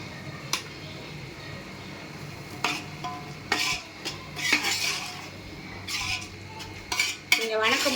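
A spoon stirs a pot of chicken biryani as handfuls of coriander and mint go in, with steady scraping and clinking against the pot over a low sizzle, loud and close.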